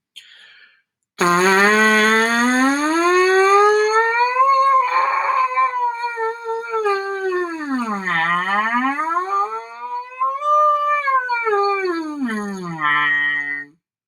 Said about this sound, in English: we know we do that same buzzing sound. We can do it in our mouthpiece